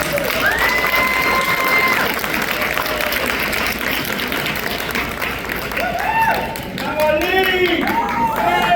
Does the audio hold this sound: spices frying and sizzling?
no